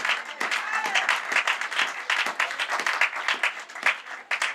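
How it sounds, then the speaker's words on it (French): A church congregation at a Sunday service applauding, dense clapping from many hands filling the room, continuous and lively throughout. "On acclame la parole du Seigneur."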